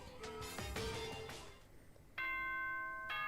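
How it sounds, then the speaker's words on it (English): An electronic ding-dong announcement chime sounds twice as clean, sustained tones, following a brief stretch of bright musical notes. "Ding dong bing bong."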